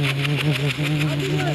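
A voice imitates a train engine starting up, a steady droning hum with rhythmic pulsing chugs, close and loud throughout.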